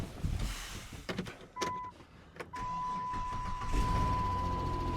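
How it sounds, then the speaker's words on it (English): A car engine is started with a Carlbros CB40 commercial 12V/24V jump box, and after a brief turnover it catches and settles into a steady running hum, close and clear with no talk. "We can go ahead and try to start our car."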